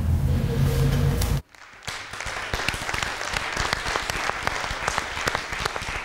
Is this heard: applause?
yes